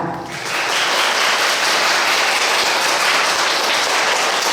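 Audience applause fills the hall at an award ceremony for a world peace festival contest, a dense, steady wash of many hands clapping that swells quickly and holds loudly throughout.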